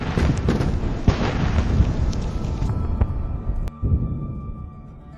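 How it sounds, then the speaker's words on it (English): A Russian military vehicle burns and detonates after a HIMARS missile strike, with a dense, continuous roar and crackle, sharp popping bursts and a deep rumble throughout, loud and alone. "The vehicle begins to detonate and burn fiercely."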